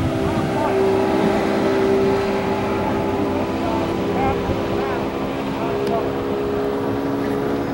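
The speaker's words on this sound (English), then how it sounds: "That's a nice running boat, very fast." A 1997 Trophy boat repowered with a 2008 Mercury two-stroke fuel-injected outboard runs steadily at speed, a continuous droning engine tone with wind and water noise throughout.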